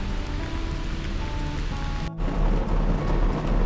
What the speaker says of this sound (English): I got a notification that there was a severe thunderstorm warning